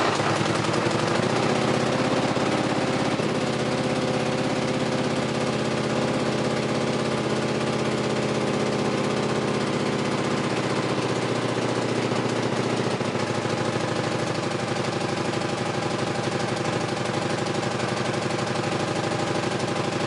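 A Honda CX500 motorcycle engine runs loud and close on choke, a steady rough mechanical drone that shifts in pitch partway through and keeps running continuously with no talking.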